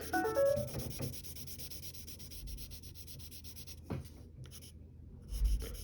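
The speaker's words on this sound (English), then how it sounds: "And now you can get the side of your pencil and shade it in." A pencil's side shades across paper, producing a dry, steady scratchy rubbing that continues in long strokes, fairly close and quiet, with no talking.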